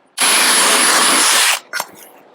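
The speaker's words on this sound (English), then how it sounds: "So what I'm going to do is actually drill all the rivets out" A power drill bores out rivets from galvanised cappings in one loud, steady whine lasting just over a second, followed by a brief clatter and then quiet.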